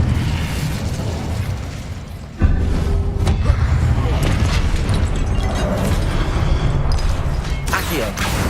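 Fiery spell blasts erupt in quick succession during combat in the video game Hogwarts Legacy, loud booming bursts and crackles layered with busy battle noise and voices.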